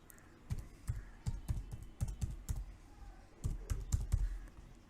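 Someone types a domain name on a computer keyboard in bursts of quick, close clacking keystrokes, with short pauses between runs and no talking.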